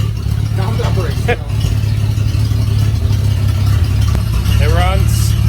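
A 1941 Plymouth barn-find engine runs at a steady idle, a continuous low rumble with light clatter, while people talk loudly over it close by.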